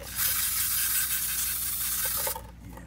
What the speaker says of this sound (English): let's go ahead and give them a good spray. Brake clean.